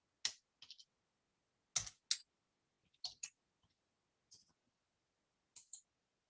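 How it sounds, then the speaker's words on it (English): Keys clicking on a computer keyboard as an answer is typed, a few sparse bursts of quick taps separated by pauses, close and fairly quiet. "Do I type the answer?"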